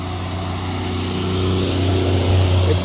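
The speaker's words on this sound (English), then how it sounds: "excuse all the truck noise" Heavy trucks rumble past on a rural road through agricultural and gas drilling country, a loud, continuous low engine roar swelling slightly as it goes by a garden.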